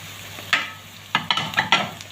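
Chili peppers drop into a hot pan of softening onions, giving several short bursts of sizzling and stirring scrapes over a quiet background hiss.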